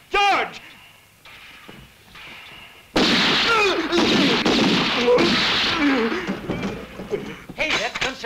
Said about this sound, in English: Hey, that's gunshots.